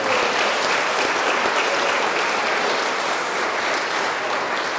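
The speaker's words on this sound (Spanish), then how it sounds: "Un día más un aplauso para nosotros" Steady applause from a church congregation at an Advent dawn Mass, evenly sustained clapping that fills the whole moment without any speech.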